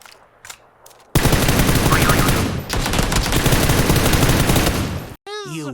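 Sustained automatic rifle fire from an AK in PUBG on Xbox/PS4, a long loud burst of rapid shots lasting several seconds that briefly breaks off and resumes, after a short voice at the start.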